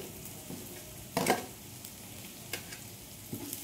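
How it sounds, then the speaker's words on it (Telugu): Ginger garlic paste fries with onions in a pan, with a soft sizzle underneath and a few brief scraping stirs at irregular intervals. "అల్లం వెల్లుల్లి పేస్ట్ పచ్చి వాసన పోయేంత వరకు కూడా మనం అడిగంట వంట తిప్పుకోవాలి"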